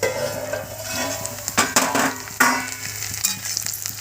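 Steamed potatoes stirred and sautéed in a pan for a fasting khichdi, with a steady close sizzle under scraping spoon strokes, a few louder clatters, and no talking.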